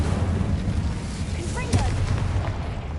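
A fire spell, Incendio, cast in a Harry Potter video game: a sustained whooshing, rumbling burst of flame with a brief brighter crackle midway, steady and fairly loud throughout.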